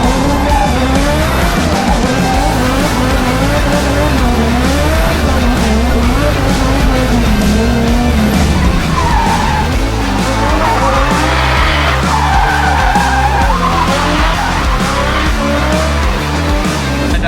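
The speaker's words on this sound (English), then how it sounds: "I try to do the victory burnouts at the end like every other NASCAR driver at least" A racing video game car does victory burnouts after a NASCAR-style race. Its tires squeal and skid loudly and continuously over a revving engine.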